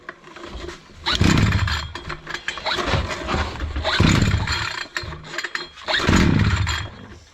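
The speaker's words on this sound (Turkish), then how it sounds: "Şimdi motor çalıştıracağız." A petrol engine on a Bolat Atak 570 is cranked in three loud surging bursts separated by brief pauses, each roaring attempt starting and then dying away.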